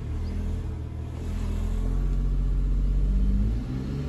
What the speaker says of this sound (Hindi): स्टार्ट हो चुकी है, 1000 RPM पे ऐसी आवाज़ आती है।